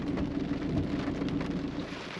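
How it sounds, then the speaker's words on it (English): Thunderstorm rain pours steadily over a rural road in south west Queensland near St George, a dense continuous wash with low thunder rumbling underneath, no voices. "awesome to be watching this storm"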